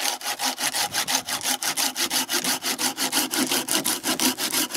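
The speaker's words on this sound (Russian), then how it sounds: "И она очень хорошо, замечательно режет, не зажимает." Bahco Laplander 396-LAP folding saw cutting a wooden log outdoors, a loud close rhythmic rasp of about four strokes per second, even and steady, with no talking.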